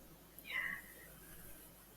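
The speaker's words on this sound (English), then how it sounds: "I'm happy I saw the cat in here." A single short, faint cat meow rises briefly inside a village church farm in Skegness, set against quiet room tone.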